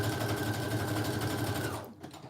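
A sewing machine runs steadily, stitching pockets into a handmade wallpaper journal: a loud, close, continuous mechanical whir that stops abruptly near the end, with no voices.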